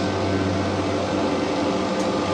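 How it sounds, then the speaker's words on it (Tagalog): Small vacuum pump recovering refrigerant gas from a York chiller, a loud steady mechanical drone with a constant hum, running alone without a break. "Ayan po yung vacuum na maliit ng gas."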